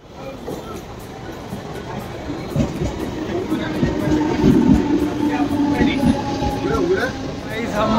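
A local train pulls into a suburban station on the way to Lonavala, its rumbling rail noise building steadily to a peak and holding under a busy platform crowd with voices talking nearby.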